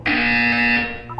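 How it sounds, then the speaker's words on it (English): Portal's test-chamber buzzer blares once, a loud, flat, rasping electronic tone held for most of a second before stopping abruptly, followed by a brief soft blip. "When you hear the buzzer, look down at the floor."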